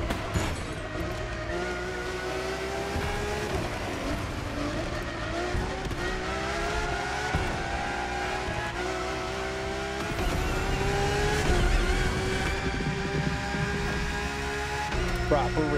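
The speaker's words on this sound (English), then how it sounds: "Proper race car." A new Lamborghini Countach race car in the driving game The Crew Motorfest roars through high revs with repeated gear changes and rising engine pitch, tyres squealing in places, loud and continuous throughout.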